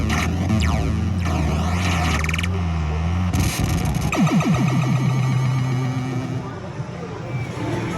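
Arcade video game audio blasting from a cranked-up cabinet speaker in a busy arcade, a loud, dense wash of synth tones, sweeping effects and booming bass filling the whole stretch, with a voice buried underneath.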